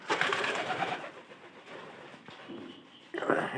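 Pigeons kept for selling their young coo close by in soft, repeated low calls, with louder rustling and movement noise at the start and end.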